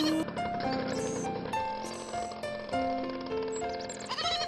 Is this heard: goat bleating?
yes